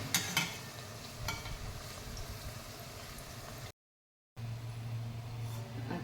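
Puris frying in hot oil, a steady close crackle with a few louder stirring clatters near the start, broken by a brief cut of silence before the bubbling resumes.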